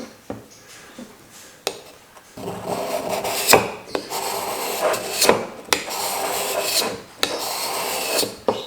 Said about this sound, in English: which actually starts taking off some shavings instead of just some powder